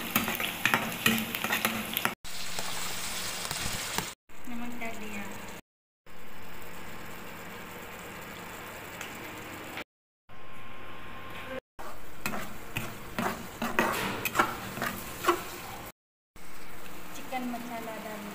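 Chicken sizzles and fries in a pan while being stirred, a continuous hiss with scraping and clattering from the utensil, cut by brief gaps, and voices talk at times.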